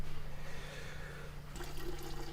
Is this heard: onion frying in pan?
no